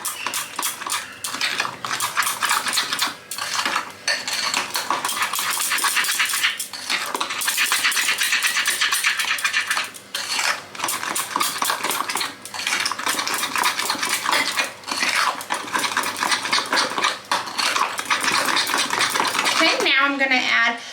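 A spoon mixing eggs into peanut butter cookie dough in a bowl, rapid continuous clinking and scraping strokes against the bowl, close and steady.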